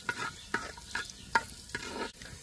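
Garlic frying in hot oil for Mangalorean rice rotti, a soft, fairly quiet sizzle punctuated by about half a dozen rhythmic scraping strokes of a spatula in the pan.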